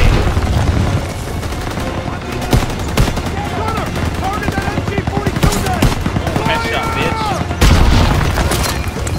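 Dense WW2 video game battle with continuous rapid machine-gun bursts, scattered gunshots and deep booming explosions, loud and close throughout, with shouted voices mixed into the chaos.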